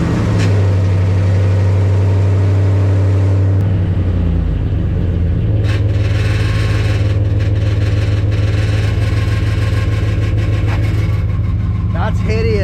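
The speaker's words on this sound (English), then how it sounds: "Does your exhaust look and sound like this?" A Dodge Ram pickup's loud, rough engine idles up close through a damaged exhaust, with a deep rumbling drone and rattly, uneven exhaust, briefly changing pitch before settling back into a steady idle.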